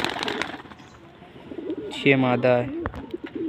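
A Lal Dum pigeon gives one short, low, throaty coo close by, while someone talks over and around it.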